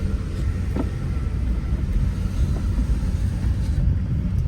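Steady low road rumble of a car driving, constant engine and tire noise throughout with no voices.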